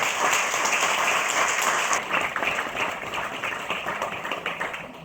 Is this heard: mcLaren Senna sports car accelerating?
no